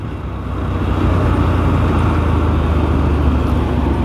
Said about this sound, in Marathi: बघा अशी नॉर्मल ट्रॅफिक आहे ना